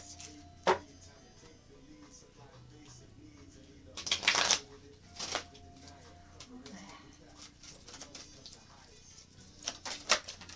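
Tarot-style cards being shuffled by hand, a few short papery riffle bursts and soft flicks scattered through a quiet room, with light handling noises in between.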